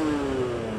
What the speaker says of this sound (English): Rev straight past 8k now.